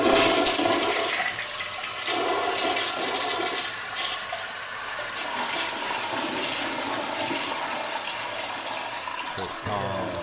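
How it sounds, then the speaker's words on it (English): A toilet flush sound effect: a loud, close rushing gurgle of draining water that tapers into a steady refill hiss for several seconds. "Can you add a flush sound effect every time you have a potty mouth?"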